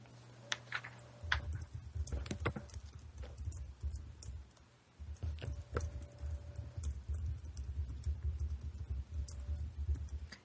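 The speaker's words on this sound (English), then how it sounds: "so I'm typing that question to her." Fingers typing out a question on a computer keyboard, a steady run of light, quick clicking keystrokes with brief pauses, close up over a low background hum.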